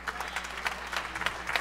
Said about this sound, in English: Come on and give them a hand,